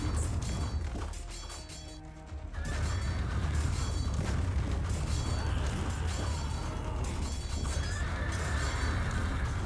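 A horse in the Empire Earth strategy game neighs and whinnies over galloping hooves and battle clatter, with a brief quieter lull before the noisy action resumes.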